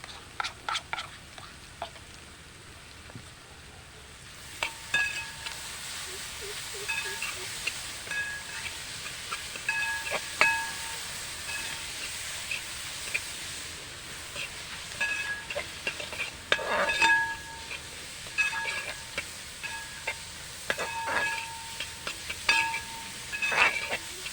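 Ginger garlic paste sizzles in hot oil in a pan for crab biryani, a steady frying hiss with intermittent stirring scrapes and clinks of the spoon against the pan.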